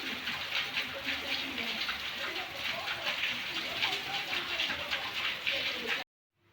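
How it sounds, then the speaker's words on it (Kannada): Rain falls steadily for about six seconds, a dense even hiss of drops close by, then cuts off abruptly into silence. "ಈಗ ಹೋದ ವಾರದ ಈ ರೀತಿ 1-2 ಸಲ ಮಳೆ ಬಂತು"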